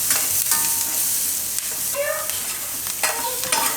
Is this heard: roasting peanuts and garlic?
yes